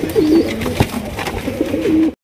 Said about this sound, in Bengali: এখানে রয়েছে দুই কোয়ালিটি কবুতর, তবে ফ্যান্সি কবুতর।